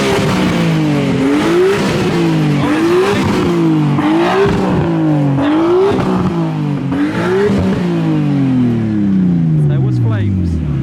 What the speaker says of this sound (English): giving off some revs.